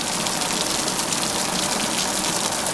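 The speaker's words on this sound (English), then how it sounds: "water's just pouring down the side, straight into the fish pond" Heavy rainwater pouring down the side of a house at the back into a fish pond, a loud, unbroken gushing wash with no pauses.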